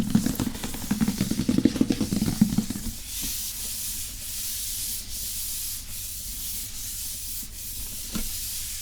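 A cardboard toy box for a Star Wars Luke Snowspeeder set is rubbed and handled close up in an ASMR unboxing, giving a dense scraping rustle at first, then a softer steady hiss.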